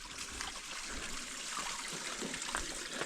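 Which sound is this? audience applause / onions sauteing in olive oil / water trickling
water trickling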